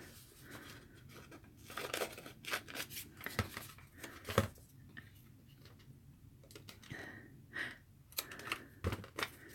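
Scissors snip through a paper ticket stub for an art journal, giving a series of quiet, close crisp cuts and rustles in an otherwise hushed room.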